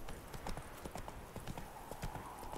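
Horse hooves clip-clop steadily at a trot in The Witcher 3, a fairly close, continuous rhythmic patter of rapid hoofbeats against a game soundscape, with no talking over them.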